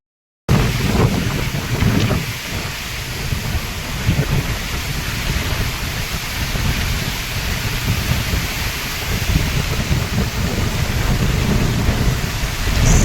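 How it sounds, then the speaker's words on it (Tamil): Strong wind at Bhavani Sagar Dam near Sathyamangalam, Erode, sweeping over banana farmland, roars loudly and continuously, buffeting the microphone in heavy gusts for over ten seconds with no talking. "பவானி சாகர் டேமில் சரியான காத்துங்க"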